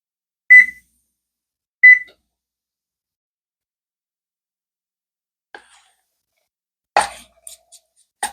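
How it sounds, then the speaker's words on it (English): An oven being set to preheat to 350 degrees in a home kitchen while making classic lasagna gives two short, clear electronic beeps, followed after a pause by a few faint kitchen clatters. "let's get our oven preheating to 350"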